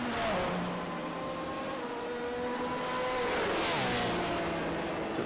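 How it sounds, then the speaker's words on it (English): A race car at the Hockenheim endurance round sweeps past, its engine note rising then falling in pitch as it approaches and recedes, loud and continuous throughout. "sound of the car when they just pass by."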